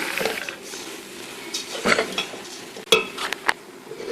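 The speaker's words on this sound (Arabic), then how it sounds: "وهنا سخنت 400 جرام زبده، وهحمر فيها الكنافه بالشكل ده." Kunafa pastry fries in 400 grams of hot butter in a pan, a soft bubbling hiss broken by a few sharp utensil knocks and scrapes as it is stirred close by.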